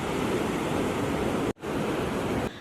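Sea waves crash against a damaged coastal seawall at Kota Karang, Pesisir Barat, Lampung, making a continuous heavy surf roar that briefly drops out, then returns just as dense.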